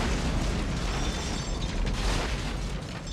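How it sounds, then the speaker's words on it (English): A continuous, loud, roaring blast fills the space as a liquor store explodes in the film From Dusk Till Dawn, with dense rumbling debris and no clear pauses throughout. "we're arguing as this liquor store is exploding all behind us and around us and over us and onto us"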